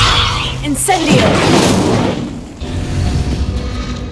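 The Incendio fire spell goes off in Hogwarts Legacy as a heavy booming burst followed by a roaring crackle that fades out over a few seconds, loud and close.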